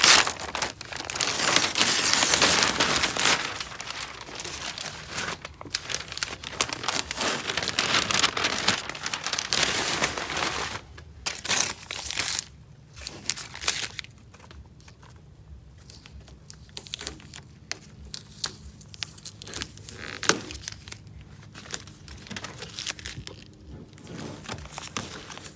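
Masking paper crinkles and tears as it is peeled away from freshly painted door handles on a 2002 Ford Ranger Edge truck, with dense rustling up close at first, then sparser, quieter crackles and rips.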